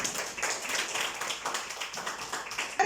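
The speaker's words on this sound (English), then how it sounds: "So clap for Ishmael" Students in a girls' section classroom clap together during a maths lesson on fractions, a steady patter of many hands at moderate loudness throughout, with no talk over it.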